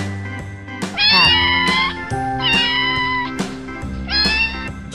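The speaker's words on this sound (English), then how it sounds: "Cat." A domestic cat meows three times in a row, each call a clear, tonal, fairly loud cry with a falling pitch and short gaps between calls, heard alone without talk.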